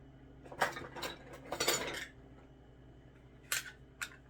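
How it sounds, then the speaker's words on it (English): Measuring cups clatter as they are pulled from a kitchen cupboard, a few short bursts of light clinking and rattling close by, separated by quiet pauses. "I got to get my cups out"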